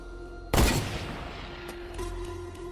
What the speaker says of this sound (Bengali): আমি পেছন থেকে একটা বন্দুকের গুলি ছোড়ার আওয়াজও পেলাম